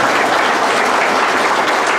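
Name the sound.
applause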